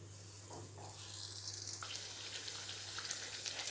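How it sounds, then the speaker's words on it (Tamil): Samosas dropped into hot oil in a pan, giving a steady hissing sizzle that builds and stays up close over a low background hum. "இந்த மாதிரி எண்ணெயில் போட்டுட்டு நல்லா 2 பக்கமும் இந்த மாதிரி நல்லா கிறிஸ்பியாக வர அளவுக்கு ஃப்ரை பண்ணிக்கோங்க"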